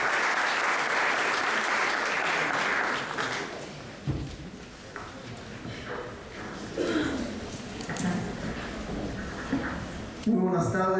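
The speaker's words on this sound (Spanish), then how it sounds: "Así que sin más, les pido un fuerte aplauso para el rabino Joseph." A loud burst of audience applause in a university lecture hall that fades after a few seconds, followed by someone speaking and murmuring from the crowd.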